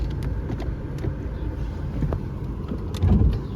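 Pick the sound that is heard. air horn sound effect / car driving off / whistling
car driving off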